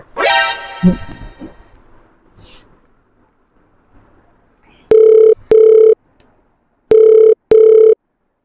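After a brief vocal sound and a quiet stretch, a telephone rings loudly in two paired bursts, each pair a clear double ring.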